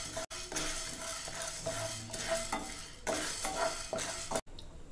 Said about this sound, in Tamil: அடுத்து மிளகு, ஏலக்காய் இது ரெண்டையும் சேர்த்து வறுத்துடலாம்.